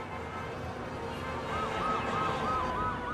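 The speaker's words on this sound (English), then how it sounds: "a passing ambulance siren screamed at 120" An ambulance siren wails in a repeating rising and falling pattern over city traffic rumble, growing louder partway through as it passes, peaking around 120 decibels.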